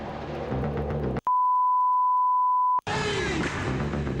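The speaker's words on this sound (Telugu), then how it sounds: "ఇదేంటి బీప్ బీప్ డైలాగ్ లాగుంది?" A steady censor bleep tone runs for about a second and a half, cutting sharply into dialogue in a Telugu TV show, with speech heard before and after it.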